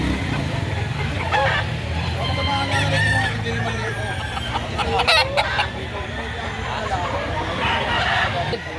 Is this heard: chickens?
yes